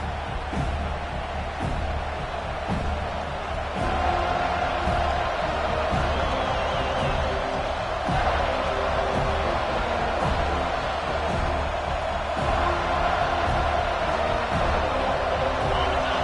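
Crowd noise fills an American football stadium in a steady, dense roar that holds loud for the whole stretch, with faint cheers rising now and then and no clear voice above it.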